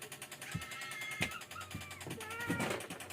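A cat gives a few drawn-out meows, moderately close, over a low hum with occasional soft thumps in the background.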